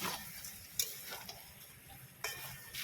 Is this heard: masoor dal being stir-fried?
yes